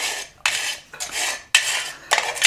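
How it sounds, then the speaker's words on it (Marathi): A knife stirs gas stove burner parts around in water inside a pan, making four rhythmic scraping, clinking metal strokes up close with short pauses between them and no talking. "चाकूने किंवा एखाद्या उलटाने ना ती बर्नल पाण्यातल्या पाण्यातच फिरवायच्यात"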